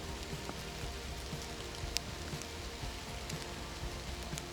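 Steady rain falls on a freshly seeded, pressed meadow in a former pine plantation, a soft continuous patter with scattered sharper drop ticks, fairly faint and even throughout, no voices.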